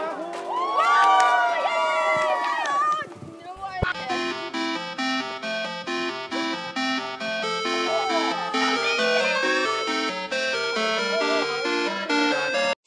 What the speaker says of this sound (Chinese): 来，用一点欢呼。